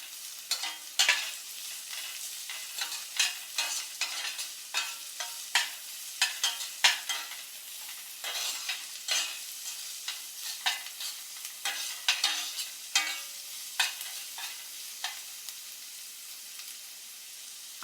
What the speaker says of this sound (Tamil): அதையும் நல்லா வதக்கிடலாம்.